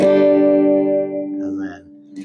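A sustained guitar chord played through a mini acoustic-simulator pedal rings out with a bright, acoustic-like tone, slowly decaying, then a quieter wavering tone and a brief noisy click from a noisy jack at the end.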